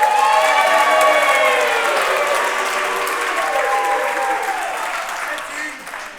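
Wedding guests applaud and cheer for the best man after his speech, a loud wash of clapping with whoops and voices on top that slowly tapers off.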